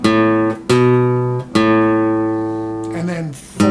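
Guitar lick picked on the low strings: a few single notes ring out and sustain, then a quick run of shorter notes, played clean and close with no voice over it.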